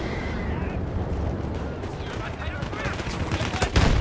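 Dense gunfire rolls through the war game Storm of Steel, a continuous clatter of shots and bursts with heavier blasts toward the end, loud and close throughout.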